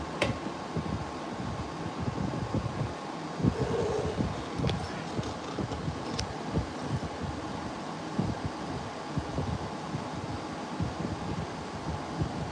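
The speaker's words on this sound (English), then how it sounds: "Let me put the air conditioner." An indoor air conditioner runs with a steady, broadband whoosh and hum at low level throughout, with no one talking.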